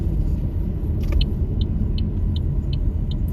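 A car rolls slowly through a drive-through, heard from inside as a steady low engine and road rumble, with a faint, regular high ticking like a turn signal running throughout.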